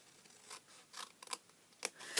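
Scissors snipping along a score line in paper for a Christmas table favour, a few quick, soft, close cuts with short pauses between them.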